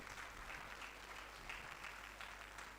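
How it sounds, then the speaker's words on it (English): Audience at an architecture festival event applauding, a continuous faint wash of clapping heard from a distance. "Please, can we give a round of applause?"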